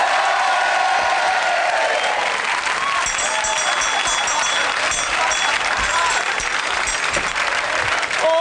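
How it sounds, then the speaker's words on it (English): A studio audience at a comedy variety show bursts into loud, sustained applause and cheering, dense clapping that stays full and even throughout with a few whoops on top. "let's have a big round of applause and meet Les."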